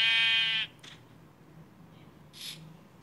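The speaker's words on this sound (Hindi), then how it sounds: "ए बकरी रुक तो सही, मेरे को एक वुल दे" A goat bleats in the Minecraft survival game, a loud harmonic cry lasting just over half a second, followed by quieter game ambience and a faint brief sound near the end.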